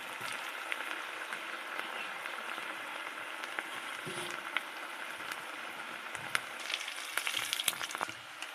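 Jackfruit and chicken frying in hot oil over medium heat, a steady close crackling sizzle with scattered sharp pops and spits running throughout, no voices.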